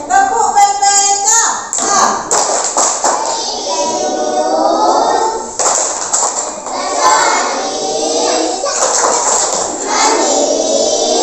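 Children chanting and clapping through the Tepuk PPK routine in a classroom, rhythmic hand claps in bursts under their sing-song group voices.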